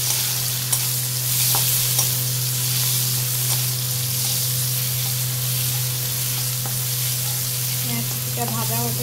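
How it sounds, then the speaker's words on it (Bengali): Chopped onion sizzles and crackles steadily in hot oil in a pan while being stirred, loud and continuous with occasional scraping strokes, no voices. "পেঁয়াজ কুচিটা ভাজা হতে হতে একটু"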